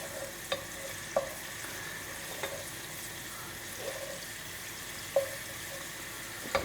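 Pancetta and onion fry in a pan for pasta e piselli alla napoletana. A soft, steady sizzle runs throughout, with a few sharp clicks of a utensil stirring against the pan, all fairly quiet and with no voices.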